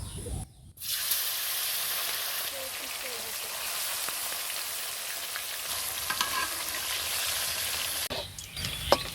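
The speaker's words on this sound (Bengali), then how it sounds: "তেল তেতে গেছে, এবার মাছগুলো দিয়ে দেবো।" Fish pieces rubbed with salt and turmeric sizzle in hot oil, a strong, dense crackle that starts after a brief pause and continues steadily, with some clattering toward the end.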